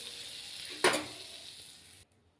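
Carrot frying in butter in a hot pan gives a steady soft sizzle, with a brief louder burst of crackle partway through before the sound cuts off.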